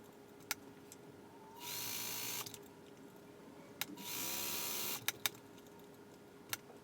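A sewing machine stitches a Kevlar glove for fire performing, whirring in two bursts of about a second each, with sharp isolated clicks from handling the fabric in the quiet gaps.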